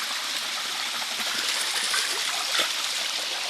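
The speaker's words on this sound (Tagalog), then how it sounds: "So, ito yung falls, no?" Waterfall in Barangay Bagong Nayon, Antipolo, rushing as a steady broad hiss of falling and splashing water, close and continuous, with no talk.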